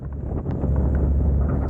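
Strong wind buffets the microphone out at sea near North Sea wind turbines, a loud, steady low roar with gusty rumble and faint water wash, no speech.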